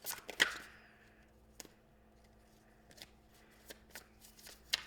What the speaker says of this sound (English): Just want to give this a good shuffle before we start pulling cards out here